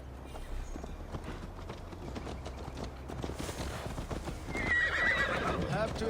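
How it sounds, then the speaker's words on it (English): In the video game Assassin's Creed Valhalla, a horse carries its rider, with steady hoof clip-clops, a whinny and voices talking over a rumbling game soundscape that swells near the end. "Mount up, Eivor. It's a long ride to Tamworth"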